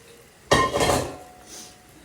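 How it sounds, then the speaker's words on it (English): Cooked ponmo (cow skin) is stirred in a pot with leftover sauce or stock: a single sharp clink of utensil against pot, followed by a soft scraping and a faint second knock. "with the remaining sauce or stock, and just give everything a great mix"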